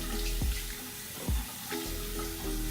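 Lukewarm shower water runs in a steady hiss while a face is wetted, with a few soft splashes and thuds breaking through.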